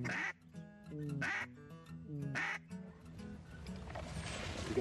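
Gray ducks quack outdoors in a few loud, close bursts of raspy calls separated by short pauses, with softer background calls and rustling at the end.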